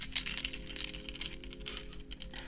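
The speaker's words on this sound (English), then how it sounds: "Hear my keys." A bunch of keys is shaken close up, giving a continuous bright metallic jingling and clinking for a few seconds at low volume with no talking.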